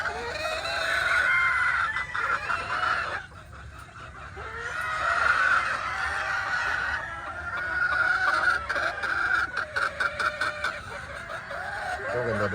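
A yellow-legged hatch sweater gamecock rooster at a game farm crows loudly and close several times in succession, with clucking from nearby fowl in between.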